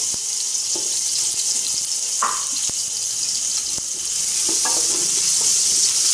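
Chopped onion sizzles in a hot pan as the base for braised oxtail, a steady high hiss with a few scattered clicks and scrapes of stirring, close by and with no talk.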